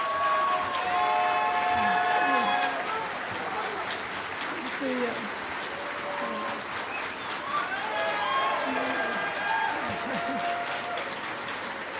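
Loud, sustained audience applause fills a debate hall for a 2018 congressional district debate, with cheering voices and chatter mixed into the steady clapping throughout.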